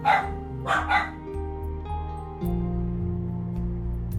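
A dog barks twice, briefly and not far off, behind steady low humming tones in a home where a harp is being restrung.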